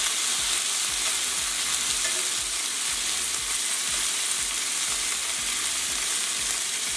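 Chicken scaloppine fries steadily in a pan, a dense, even sizzle with faint crackles running unbroken throughout, close and fairly loud, with no voices.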